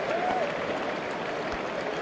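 Sustained applause from a large crowd at a cricket Test match between England and West Indies, steady dense clapping with some cheering, heard at a distance under a commentator's voice.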